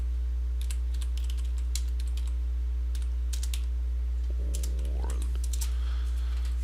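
Keys clatter on a computer keyboard during a spreadsheet lesson, coming in scattered bursts of clicks over a steady low electrical hum, with a brief faint voice-like sound in the middle.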